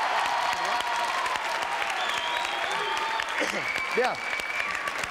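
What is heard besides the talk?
studio audience applause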